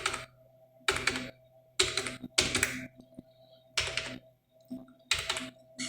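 An Aadhaar number is typed on a computer keyboard in irregular clusters of quick key clicks separated by pauses, close and clear over a faint steady hum, with nobody speaking.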